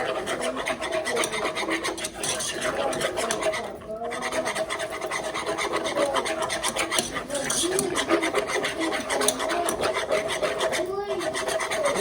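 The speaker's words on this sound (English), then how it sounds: "You don't want any lumps, so that's why you want to whisk it in there slowly." A whisk scrapes steadily and rapidly against a pot as flour is worked into a roux for vegan gumbo, a continuous close rasping scratch with no talk over it.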